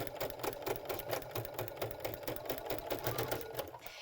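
A Baby Lock sewing machine fitted with a garment maker foot stitches steadily, its rapid, even needle clatter running close and continuous for about four seconds with no talk.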